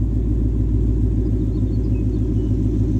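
A Ford Mustang GT S550 with a Coyote V8 idles close by, a loud, steady, deep rumble with an even low pulsing throb and no other sounds.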